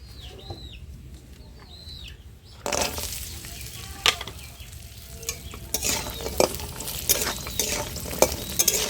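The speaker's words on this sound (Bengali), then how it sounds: "বড়িটা লাল করে ভেজে নেব।" Bori lentil dumplings frying in oil, a sizzle that jumps louder partway through, with scraping stirs and clinks of a spatula at close range; faint chicken clucks sound in the background before it.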